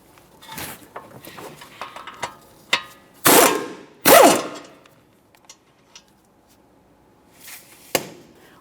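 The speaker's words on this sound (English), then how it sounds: "Remove the first mounting bolt, a quick inspection, and then start it back in a couple threads." Ratchet work on a caliper bracket mounting bolt of a 2015-2019 Subaru Outback during a front wheel bearing and hub replacement: scattered close clicks and taps, two loud harsh bursts in the middle, then sparse knocks and one sharp final clack.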